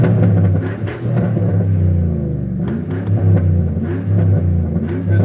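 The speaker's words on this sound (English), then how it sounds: "I went and had a little tune-up done on my engine." A freshly tuned car engine revs up close, a loud, steady, rumbling drone with rising and falling pitch as the throttle is worked, no talking.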